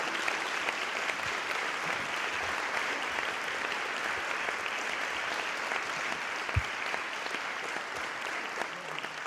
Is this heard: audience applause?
yes